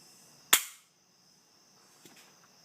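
An HK P30 pistol dry-fired: one sharp, close metallic snap of the trigger break and slide cycling, then quiet with a couple of faint small clicks.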